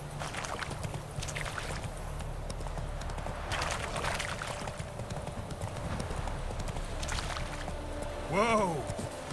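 Roach, the horse in The Witcher 3, trots with a steady, close clip-clop of hooves over ambient game sound, then gives a short whinny near the end.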